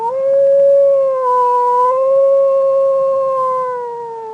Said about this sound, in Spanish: Probablemente fue un perro que estuvo aullando toda la noche.